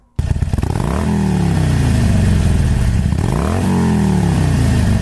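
A V-twin motorcycle engine revs hard twice, rising and falling in pitch with a deep, rumbling throb that stays loud and close throughout.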